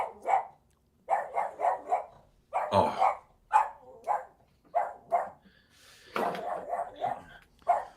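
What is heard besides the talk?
dog barking at someone at the door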